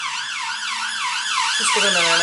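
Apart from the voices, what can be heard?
siren of a passing emergency vehicle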